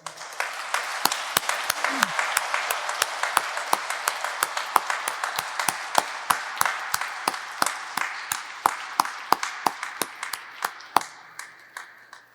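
A church congregation at a farewell for a priest and a nun gives a fairly quiet round of applause, then settles into slower, spaced individual claps that carry through a reverberant hall before fading.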